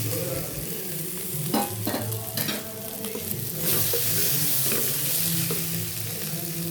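Ivy gourd is stir-fried in a spice masala in a pan, with a steady crackling sizzle broken by repeated scraping and clattering stirs, up close and with no talking.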